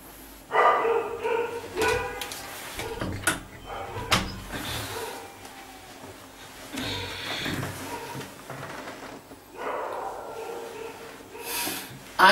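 Dogs bark outside a small ashram during a sermon, sharp repeated barks and yips in irregular bursts at mid distance, mixed with background noise and some voices.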